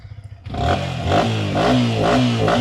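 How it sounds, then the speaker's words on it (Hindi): A motorcycle with 68,313 km on it idles with a rough putter, then revs up strongly several times in rhythmic surges, loud and close. "मेरी मोटरसाइकिल का साउंड सुन लो"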